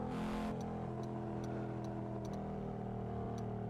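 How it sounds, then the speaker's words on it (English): Car engine in a driving video game on a virtual commute, a steady mid-pitched drone humming continuously at moderate volume with faint ticking clicks over it and no talk. "I love this car. It sounds so much better than the R32."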